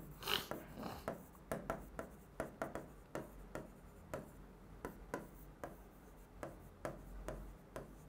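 Chalk or marker writing on a classroom board, a series of close taps and short scraping strokes in an uneven rhythm with no talking.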